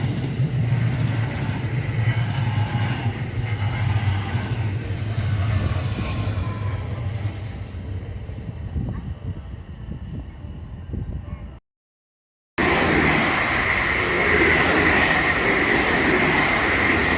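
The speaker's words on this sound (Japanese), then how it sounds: "次に1番乗り場に参ります電車は普通電車の西明石線です。" A JR Kobe Line local train pulls into Maiko Station, its loud rumbling roar and rolling wheels filling the platform, easing off before a brief gap and a renewed burst of noise.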